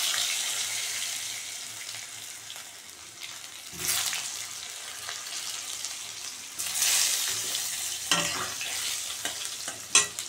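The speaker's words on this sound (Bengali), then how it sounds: "আলুটা একদম লাল লাল করে ভাজা হয়ে যাবে" Potato pieces fry in oil with cumin in a pan, a loud, close sizzle that surges in bursts as they are stirred and tossed.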